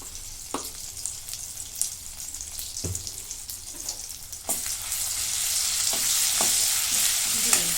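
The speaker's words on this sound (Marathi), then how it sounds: "परतून आता हे लसूण आणि मिरची हिरवी मिरचीची पेस्ट आहे" Ginger, garlic and green chili paste sautés in a pan for a Marathi chakvat greens dish. A steady, close sizzle carries a few soft stirring knocks and swells louder and brighter halfway through.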